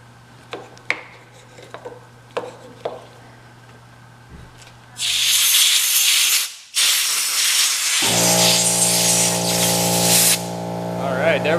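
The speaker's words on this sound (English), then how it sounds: "I'm gonna use chain lube, and then I'm gonna use a flathead screwdriver and just kind of go around here and break" Aerosol chain lube sprayed on the throttle grip of a Raptor 700 ATV, a steady loud hiss in two long bursts, preceded by a few clicks and followed by scraping as a flathead screwdriver breaks up old glue, with a tonal hum underneath.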